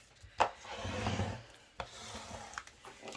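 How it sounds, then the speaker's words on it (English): Scraping the back of a Cricut craft piece, a series of dry rubbing strokes with a few sharp knocks between them, close and fairly quiet with no talking. "I'm going to scrape this one more time actually on the back."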